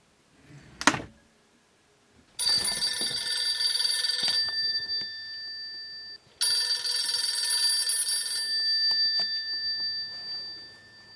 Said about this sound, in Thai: พร้อมกับเสียงโทรศัพท์ที่ดังขึ้น